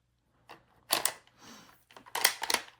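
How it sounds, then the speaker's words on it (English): The bolt is drawn from a 1916 J.P. Sauer & Sohn Gewehr 98 Mauser rifle, giving a few close, crisp metallic clicks and sliding rasps in quick bursts against near silence. "You take the bolt out of the gun."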